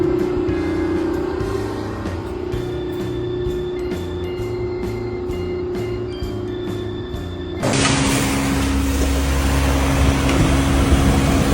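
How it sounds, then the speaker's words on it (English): Shoe mold-forming machine shaping a shoe base before sewing, a loud, steady mechanical hum with rhythmic pulsing thumps, jumping to a harsher, brighter roar partway through. "this is a mold-forming machine for shoes. It shapes the base before the sewing process."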